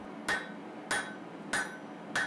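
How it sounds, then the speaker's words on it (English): Four evenly spaced hammer blows ring out on a hot knife bar during forging, each a close, bright metallic strike about half a second apart. "The process here was to flatten the bar, then forge a preform, then forge the bevels into that preform"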